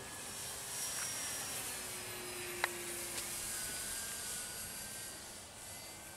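An E-flite Air Tractor electric RC airplane hums with a steady, high-pitched motor whine outdoors, holding a fairly constant drone at moderate distance as it flies, with a faint click partway through.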